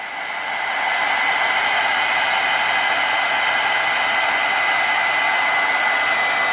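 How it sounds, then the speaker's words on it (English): A heat gun blows a steady, loud, broadband hiss with a constant whir as it melts embossing powder for a handmade scrapbook mini album, running unbroken from a quick start to the end. "I'm just going to melt this embossing powder"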